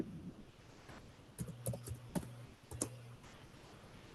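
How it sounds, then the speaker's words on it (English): Typing on a computer keyboard during an AWS cloud DevOps session, a few quiet scattered key clicks in short bursts over faint background noise, with a louder sound at the end. "Typing"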